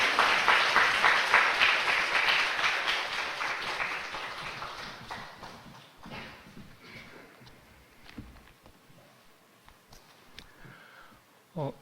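A church congregation at a Sunday morning service applauds to welcome a missionary, a dense burst of clapping that is loudest at first and fades out over several seconds into scattered sounds.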